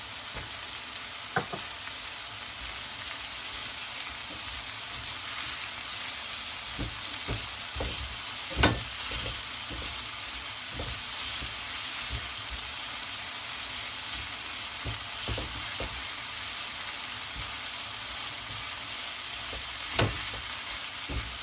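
Green chilies fry in a pan for an Afghani omelette with eggs, potatoes and tomatoes, giving a steady, loud sizzle and hiss, broken by occasional clicks and pops from stirring, with no talking.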